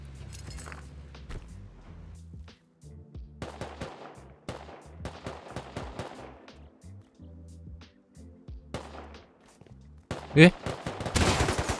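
Repeated video game gunshots crack out in scattered bursts, some close and sharp, others farther off, with a brief startled voice near the end.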